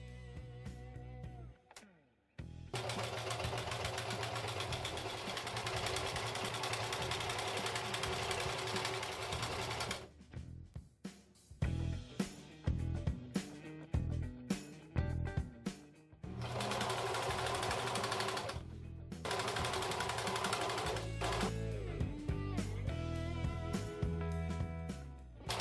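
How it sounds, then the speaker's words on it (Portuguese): A sewing machine stitches velcro strips in long steady runs of fast mechanical chatter, stopping and restarting several times with short pauses and clicks between passes, close and clear. "Costurei as fitas nas extremidades de forma invertida."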